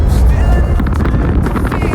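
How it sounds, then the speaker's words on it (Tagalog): Strong wind buffets the microphone with a low, steady roar that continues the whole time. "buti na malakas ang hangin."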